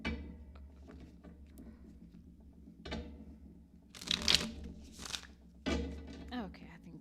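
Tarot cards being shuffled by hand at close range, soft riffling bursts and light thumps in several separate rounds with quiet pauses between.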